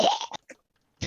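A voice imitating a woman coughing up water: a short sputtering cough, then a faint catch and one more brief cough after a pause, close and quiet.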